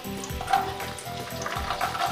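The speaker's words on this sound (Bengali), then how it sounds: "এবার আমি আলু গাজরটা দিয়ে নিয়ে একটু নুনও দিয়ে নেব" Potatoes and carrots fry in hot oil on a low flame for semolina upma, a close, continuous soft sizzle with faint rhythmic stirring bumps underneath, no talking.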